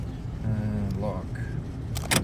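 Door locks on a Honda CR-V engaging, heard as a brief mechanical clunk near the end of the clip under a low steady background hum.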